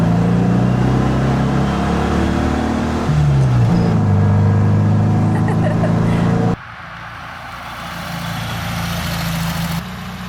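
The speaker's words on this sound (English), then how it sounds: "The car's driving all right." A 1969 VW Beetle being driven back to life after years off the road, its engine droning loud and steady inside the cabin with gear-change shifts in pitch, while people talk at times.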